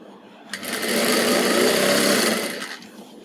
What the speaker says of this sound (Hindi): वहाँ पे डबल स्टिचिंग करके इसको फिटिंग कर देना है दोनों साइड से